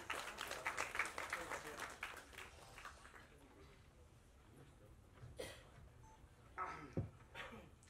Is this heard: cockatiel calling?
no